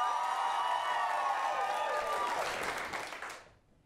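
An audience at an improv comedy show claps and cheers in a dense burst that fades out near the end, with whoops audible over the clapping.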